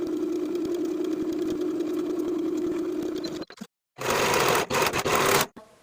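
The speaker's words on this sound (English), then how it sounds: "Sew the side seams with a 3/8 inch seam allowance, finish the raw edges, and press the seams toward the back." A sewing machine runs a steady, humming seam along the side of a wrap skirt, then breaks off into a few short, louder bursts of stitching with brief stops.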